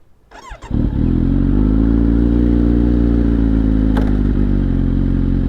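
A motorcycle engine cranks briefly, catches, and settles into a loud, steady idle rumble close by.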